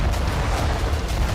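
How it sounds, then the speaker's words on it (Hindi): A car struck by a rocket blows up in a loud, deep explosion, a dense low rumbling blast that fills the whole moment without a break. "पलक झपकते ही कार में जोरदार धमाका हुआ।"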